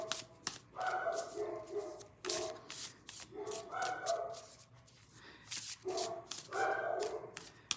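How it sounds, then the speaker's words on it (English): Several dogs bark in short bursts with a few whimpers mixed in, heard from a moderate distance with shuffling noises between the barks. "if you can hear my dogs barking in the background"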